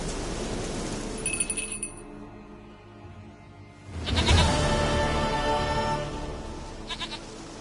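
A goat in The Witcher 3 bleats loudly and close in a long wavering cry. Brief glassy chimes come before it and again at the end.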